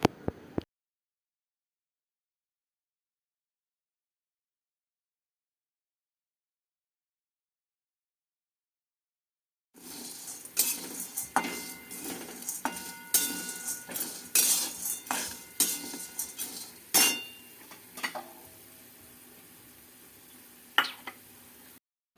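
Sago, dal and poha being roasted in a pan: after a long stretch of silence, close scraping and clinking of a utensil against the pan come in irregular strokes, fairly faint, with no talking.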